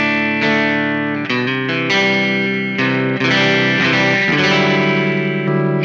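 An electric guitar plays chords through an amp turned all the way up and pushed with pedals, producing a loud, heavily distorted tone with a chorus-like shimmer and sustained ringing notes.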